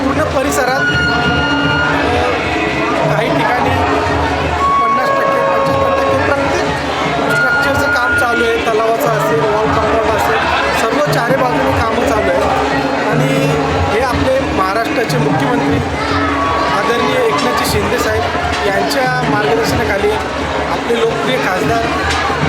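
Dense crowd babble fills a Mahashivratri fair at an ancient Pandava-era Shiva temple, loud and continuous, with many overlapping voices and someone talking up close over the hubbub.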